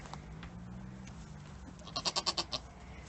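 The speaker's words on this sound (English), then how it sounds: "We have a goat who's getting ready to kid any day" A pregnant farm goat near its kidding time gives one loud, close bleat made of rapid pulses, after a stretch of quiet background noise.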